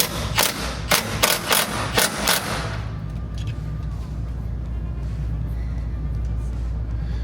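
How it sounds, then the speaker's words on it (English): A ratchet with an 18 socket tightens the bolts on a Can-Am Maverick's electric seat slider, giving several sharp, close clicking bursts in the first couple of seconds before a low rumbling background takes over. "grab your 18 socket, tighten everything back up, back two bolts"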